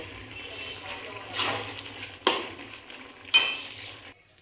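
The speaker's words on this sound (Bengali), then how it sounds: "এবার আমি এটাকে নাড়াচাড়া দিয়ে গ্যাস বন্ধ করে দেব" Potato curry stirred in a pan with a spoon, with chopped coriander leaves just added: soft scraping and clinking strokes, with three sharper scrapes against the metal over a low background hum.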